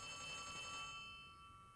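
A telephone rings in Poppy Playtime Chapter 3, a steady electronic ring heard alone and fairly clear for about a second before fading into a quiet room tone.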